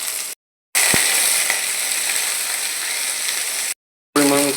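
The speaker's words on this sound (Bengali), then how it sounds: "আলু, ফুলকপি, পেঁয়াজ কুচি, কাঁচা লঙ্কা সব দিয়ে ভেজে নিচ্ছি" Potatoes, cauliflower, chopped onion and green chili fry in hot oil, giving a steady close sizzle that runs unbroken through most of the clip, cut by two short silent gaps.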